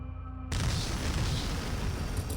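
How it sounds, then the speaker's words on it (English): An explosion from the video game Fear & Hunger 2: Termina hits suddenly as a loud, broad boom, then leaves a sustained rumbling roar that lasts to the end. "I think I have another round of explosions"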